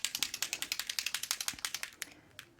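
A can of cream gold sparkle spray is shaken close by. Its mixing ball rattles in quick, even bursts that slow to a few final clicks before stopping.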